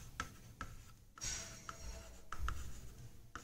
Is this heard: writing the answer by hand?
yes